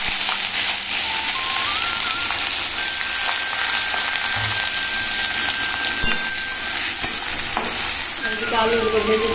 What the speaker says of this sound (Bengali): এবার আমি দিয়ে দিচ্ছি কুচুনো পেঁয়াজ